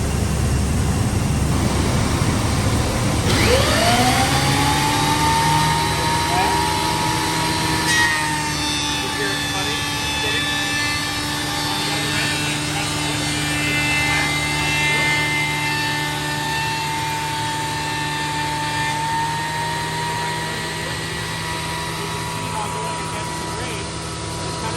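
A woodworking planer starts up, its motor whine rising quickly to full speed and then holding a steady loud drone with tonal harmonics for the rest of the stretch.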